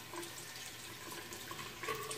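A tap runs steadily into a sink, a continuous hissing splash of water at low to moderate volume with no voices.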